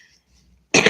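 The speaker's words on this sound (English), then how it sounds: "It's morning, I have to cough." A single sharp cough bursts out after near silence, close and loud.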